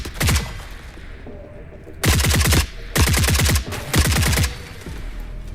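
Automatic gunfire in The Forever Winter video game, loud rapid bursts: a short opening volley, then three sustained bursts of about half a second each separated by brief pauses, over a steady rumbling background.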